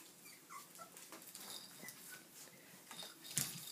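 Newborn Sheltie puppies whimper and squeak in soft, high, intermittent cries close up, with a sharper yip near the end and no talking.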